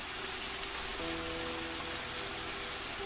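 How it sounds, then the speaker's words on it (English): Heavy rain drums down in the jungle at night in the ruins of Tikal, a dense, constant hiss of drops close by, with a faint low hum briefly underneath. "The rain continues, heavier now, a relentless drumming."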